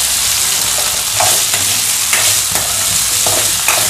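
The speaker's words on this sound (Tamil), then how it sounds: "வெங்காயம் வதங்கிடுச்சு, காயை கொஞ்சம் வதங்கிடுச்சு" Onions and vegetables sauté in a hot pan for a Tamil dry fish gravy, karuvattu kuzhambu: a loud, steady sizzle close up, broken by occasional scrapes from stirring, with no talking.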